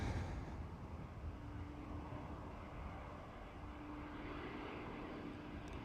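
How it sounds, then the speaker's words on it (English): A German Airways Embraer E190 jet airliner at Amsterdam Schiphol gives off a steady, rushing engine roar with a faint whine. The sound holds at a moderate level throughout and is heard alone, with no talking. "German Airways E190."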